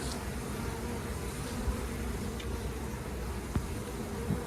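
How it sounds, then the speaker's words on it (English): Honey bees buzz in an open beehive during a Demaree swarm-control inspection, a dense steady drone filling the space close by, with a few faint clicks and knocks of hive frames. "This hive has loads and loads of bees."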